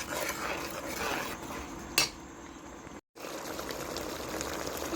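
Turmeric, chilli powder and spices being stirred in a pan for chicken curry: a continuous quiet sizzle with scraping, one sharp clink of metal and a brief dropout.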